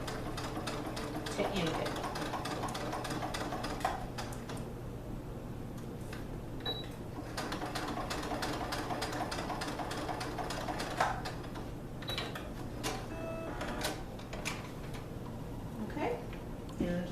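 A sewing machine back stitches over the elastic on recycled leggings, a steady close rapid mechanical run with brief pauses, with a voice talking over it.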